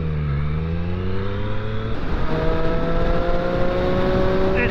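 A Triumph Street Triple 765 R motorcycle engine revs hard, rising pitch steps up through the rev range and holds a loud, near, steady snarl with no talking over it.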